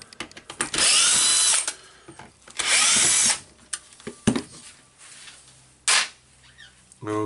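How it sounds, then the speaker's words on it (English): A power screwdriver removes screws from a Hilti TE706 demolition hammer, with two loud, close, high-pitched whirring bursts of about a second each, a shorter third burst, and clicks and handling knocks between them. "It's a two screws here, so I will unscrew them to get this all plate out, the controller unit out"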